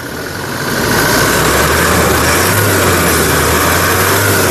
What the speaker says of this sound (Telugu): ఇంజన్ యొక్క నాయిస్ చాలా సైలెంట్గా అయితే ఉందండి